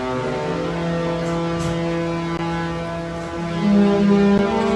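Deep, sustained horn tones from the Regal Princess cruise ship with a low hum shift in pitch over several seconds, playing the Love Boat theme.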